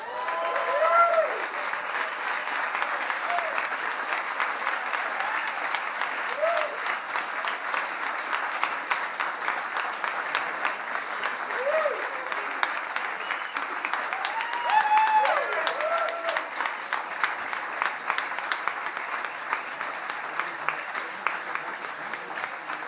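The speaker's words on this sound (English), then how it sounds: "Can we have a round of applause for them?" Sustained audience applause at a music prize ceremony, a loud, even wash of clapping lasting over twenty seconds, with occasional whoops and cheering voices rising above it.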